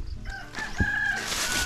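Chickens cluck and a rooster crows briefly nearby, a short burst of fowl calls over faint outdoor background.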